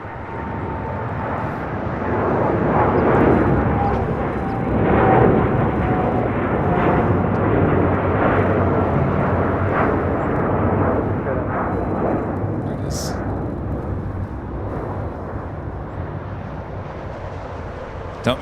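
Boeing 787 Dreamliner airliner passing at LAX, a loud, steady broadband jet roar with a faint whine that holds for the whole stretch, with people talking over it.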